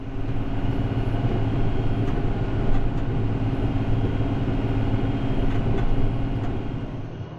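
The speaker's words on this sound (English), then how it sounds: "You got to have a pretty stout tractor to pull it." A stout farm tractor pulls deep-digging tillage shanks through soil, its engine giving a steady, heavy, close rumble that stays at an even level throughout, with no voices.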